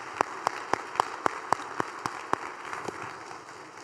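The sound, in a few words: applause for city employees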